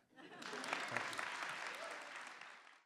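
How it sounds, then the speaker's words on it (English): An audience at a live storytelling show breaks into a burst of applause, dense clapping that swells quickly, holds for a couple of seconds, then fades. "he really hopes that you feel like clapping now because his time is up"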